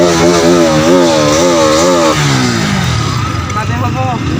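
Motorcycle engine revving hard at a New Year's party, a loud rising and falling whine that later settles into a rougher, lower idle, up close and steady throughout.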